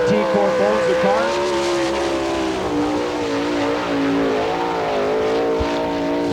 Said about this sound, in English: The farmer, Dan Bretnacher, qualifying right now in car number 33.